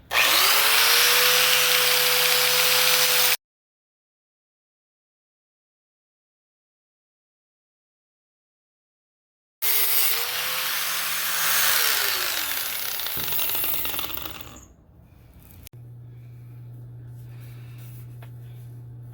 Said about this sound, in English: So all I'm going to do is use a grinder to cut it off.